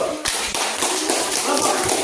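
A class of students applauds a group after its presentation in a teaching-practice lesson. Quick, close handclaps with some sharp taps form a continuous patter through the whole stretch.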